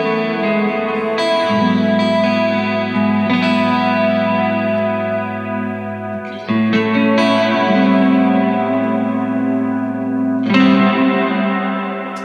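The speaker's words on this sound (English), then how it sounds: "And then sometimes I like to add a reverb on top of it." Electric guitar through a Victory Duchess MKII amp with a Flint reverb pedal, played in a large room: sustained chords ring out with a lush, washy reverb tail, struck anew about every few seconds, loud and alone.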